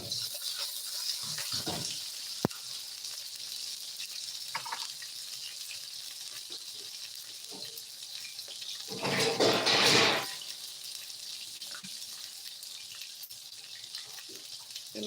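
A kitchen tap runs water for cooking in a steady, faint hiss, with a louder gush for about a second near the middle, plus occasional small clatters.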